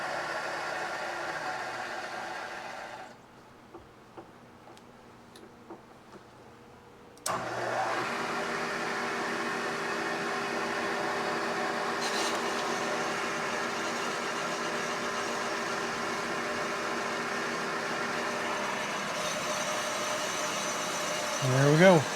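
A cylinder boring machine cuts a Yamaha 360MX motorcycle cylinder, starting up into a steady, loud mechanical whir with a tonal hum that runs on continuously after a brief quieter pause.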